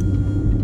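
Car engine rumbling low and steady while being driven and turned, a brief close-up drone with no voices.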